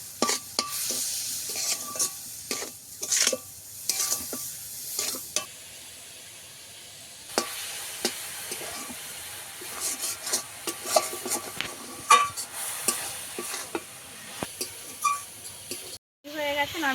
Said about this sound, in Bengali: এদিকে নারকেলের ছাইটা মেরে নেব। পুরটাকে ভালোভাবে বানিয়ে নেব আর কি